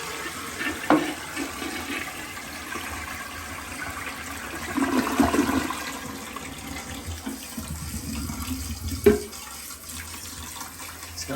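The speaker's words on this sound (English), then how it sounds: "I'm going to flush it." A toilet flushes after a fill valve replacement, the rush of water swelling midway and a sharp clunk near the end, then a steady hiss of the tank refilling, all close and without talk.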